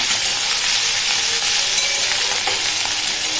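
Pasta ingredients fry in a pan and are stirred, a loud, dense, unbroken sizzle with faint scraping close up and no voices.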